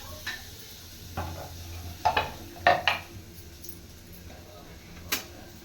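Chopped onions cooking in oil in a pan with a faint background sizzle, broken by a few sharp clinks and scrapes of a utensil stirring against the pan.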